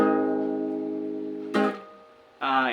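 A 5-4-1 chord progression struck one chord after another: a long sustained first chord fading out, then two shorter bright chords, close and clear with no talking.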